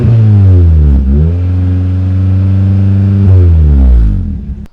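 A smoking 4-cylinder Nissan Pulsar engine revving: loud, close harmonic engine tone climbing and falling through several rev changes, then dropping off at the end, with no talking.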